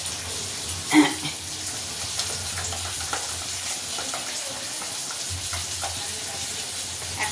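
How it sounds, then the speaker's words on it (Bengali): Spices sauté in a pan with a steady, close sizzle and faint scraping of stirring, broken once by a sharper clatter early on. "আর একদিকে মশলাও কষা হয়ে যাচ্ছে"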